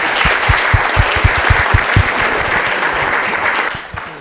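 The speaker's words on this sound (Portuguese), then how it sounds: "Salva de palmas, gente." An audience claps loudly and continuously at a business seminar, a dense close burst of applause that holds steady and then thins out near the end.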